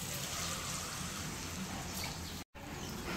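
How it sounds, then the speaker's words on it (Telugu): A little water is poured into a pan of cooked prawn curry with the oil risen to the top, a soft, steady trickle and splash close by, broken by a brief dropout near the end. "ఇప్పుడు మనం కొద్దిగా వాటర్ పోసుకోవాలి"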